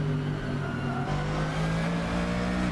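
A Mercedes GT3 race car engine in Assetto Corsa drones steadily and loudly, its pitch climbing gradually as the revs build, alone with no talk.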